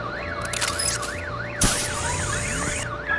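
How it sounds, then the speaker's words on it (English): A car alarm in a Batman video game, set off by a bat stunner, wails with a steady rising and falling whoop, loud and continuous, with a sharp mechanical crack and clatter partway through. "My bat stunner would set off the car alarm."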